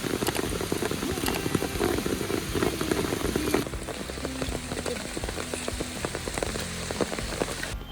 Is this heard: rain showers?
yes